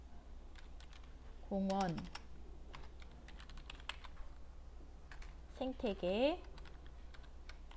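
Computer keyboard keys are tapped in a steady, quiet series of light clicks, with someone speaking briefly twice over the typing.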